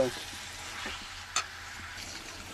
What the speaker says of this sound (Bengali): সয়াবিনগুলো দিয়ে আমি ভালো করে কষিয়ে নেব